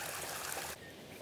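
A small waterfall on a side channel of Crab Creek in Washington State gives off a faint, rushing wash of water that briefly drops in level.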